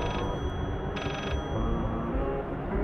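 A telephone rings in the horror video game Layers of Fear VR, with two short bursts of bright electronic ringing over a dense, rumbling game ambience.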